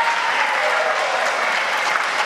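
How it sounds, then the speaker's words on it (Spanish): Steady, dense applause from an audience fills the whole stretch, a continuous wash of many hands clapping with no pauses. "Está muy bien que aplaudan"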